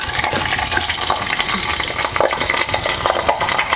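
Cumin seeds, curry leaves and green chilies sizzle in hot oil in a pan, a loud, dense, continuous crackling hiss heard up close for a few seconds with no voices.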